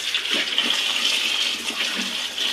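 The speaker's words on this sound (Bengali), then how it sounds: "আলুগুলো ভালোভাবে পরিষ্কার করে নিচ্ছে।" Potatoes being washed under running water, a steady close hiss of flowing water with faint knocks of the potatoes underneath.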